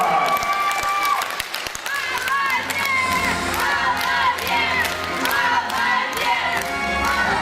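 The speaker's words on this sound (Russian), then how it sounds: "Ваши аплодисменты!" Crowd at a beauty pageant final applauds and cheers for a contestant receiving a prize, with continuous clapping, shouts and whoops, and an announcer's voice over loud music.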